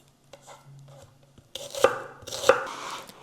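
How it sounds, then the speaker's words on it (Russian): A knife chops an onion into small cubes on a board, a few quiet taps early, then two sharper clusters of close cutting strokes, with no talking. "Все, уже нарезали весь лук."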